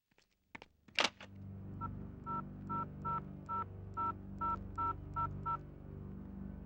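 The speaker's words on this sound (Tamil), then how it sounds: "அவன் ஆண்டனிக்கு போன் போடு." A telephone number is dialed as a series of about ten evenly spaced touch-tone beeps, clear and close, after a sharp click of the handset, with no talking.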